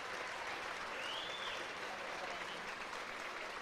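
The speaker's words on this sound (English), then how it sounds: "Warm round of applause as Marlo Boyd makes her way onto the field." Faint, distant crowd applause spreads across a rugby stadium during a women's Allianz Cup semi-final as a player comes onto the field, a steady low wash of clapping throughout.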